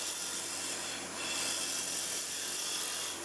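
A hand tool takes a planing cut on wood for a water flask: a steady, close, continuous shaving rasp that dips briefly and then resumes at full strength.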